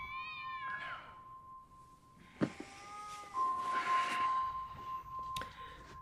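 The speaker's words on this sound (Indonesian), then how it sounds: "Haris pun terbangunkan oleh suara kucing di rumahnya." Inside a house at night, a cat meows several times over a steady electronic tone, with one sharp knock partway through and a louder, drawn-out meow near the end.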